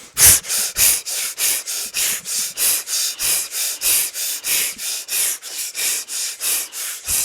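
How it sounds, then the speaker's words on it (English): Forceful rhythmic Kundalini yoga breathing from a room of people, rapid sharp exhales repeating steadily about three times a second, loud and close, no talking. "you can hear the other yogis in the room off camera breathing powerfully"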